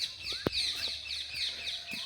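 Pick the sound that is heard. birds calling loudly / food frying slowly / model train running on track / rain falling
birds calling loudly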